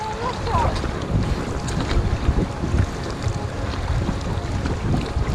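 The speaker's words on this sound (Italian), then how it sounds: "E tutto vento maledetto dove arriva?" Strong wind roars steadily across the microphone on a river, a dense rumbling rush with faint water sounds beneath and no clear talk.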